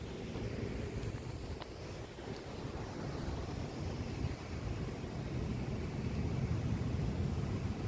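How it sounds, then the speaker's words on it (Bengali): Strong wind roars steadily against the microphone, a dense broadband rush with low buffeting and no voices. "হেভি বাতাস, এত বাতাস, মনে হচ্ছে বাতাস আমি উড়ে যাব এবার।"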